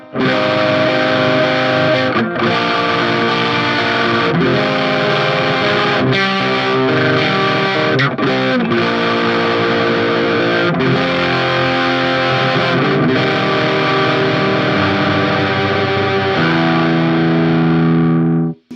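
A heavily fuzzed electric guitar through a Walrus Audio Silt Harmonic Fuzz pedal with low end cut plays sustained, buzzy chords with the low end thinned out, loud and continuous with brief breaks between strums.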